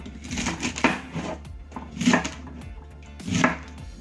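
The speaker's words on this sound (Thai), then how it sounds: "หั่นพอดีคำ" Knife chopping food into bite-size pieces on a cutting board in a few bursts of quick, close cuts, with short pauses between them and no talking.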